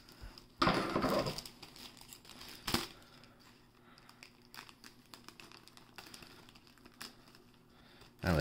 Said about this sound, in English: Let's just cut out the rating sticker